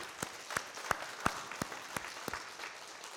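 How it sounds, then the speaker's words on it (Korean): Church congregation clapping in a slow, regular rhythm, about eight or nine crisp claps spaced evenly, moderately distant and fairly quiet in a reverberant room. "우리 하나님 앞에 함께 다 영광의 박수 돌리십시오."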